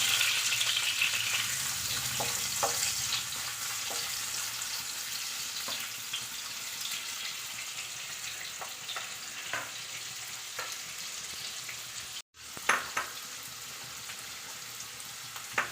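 Chopped onion sizzles and fries steadily in a pan, a faint continuous crackle with occasional stirring clinks and one short break near the end.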